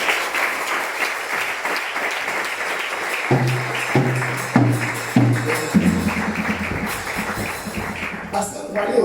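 A church congregation applauds, dense steady clapping from many hands filling the room, with a voice speaking and music-like tones over it partway through.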